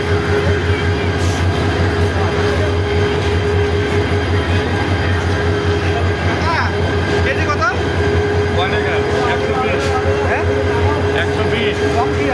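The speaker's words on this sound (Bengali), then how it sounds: "পাশে দাঁড়ানো থাকা ট্রেনটি ছেড়ে দিল এইমাত্র" A loud, steady rumble of a local train departing close by, with a constant engine hum and rattling wheels throughout; voices are faintly audible.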